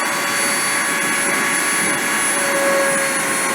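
CNC router spindle running up to 30,000 RPM, a loud, steady high-pitched whine with constant tonal lines that holds evenly throughout with no talking.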